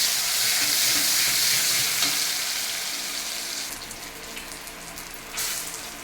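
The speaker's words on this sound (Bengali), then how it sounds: "এর সঙ্গে দিয়ে দিচ্ছি আমি একটু পেঁয়াজ কুচি।" Chopped onions frying in spiced oil in a pan, a steady close sizzle with stirring that softens toward the end, with no one talking.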